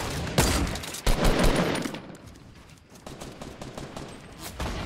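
Bursts of rapid gunfire ring out in the battle royale game Fortnite, starting with sharp loud shots, then fading into a scattered, distant-sounding exchange of fire.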